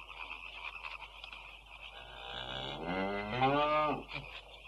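A single cow lets out a long, rising moo, fairly close, over a faint background hiss.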